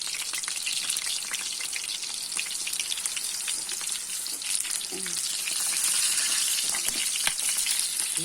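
Onions sizzle steadily in a hot pan with peppers, a dense crackling hiss with occasional louder pops, close up and continuous.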